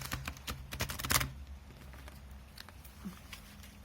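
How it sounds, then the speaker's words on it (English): A quick burst of rapid riffling of a deck of playing cards, dense papery flutters building to a sharp peak, then settling into soft quiet handling. "I will shuffle it again for your benefit."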